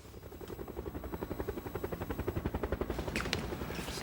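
A helicopter arrives in a film scene, its rotor producing a steady, rapid thumping that grows slightly louder and nearer over several seconds, with a brief sharper noise near the end.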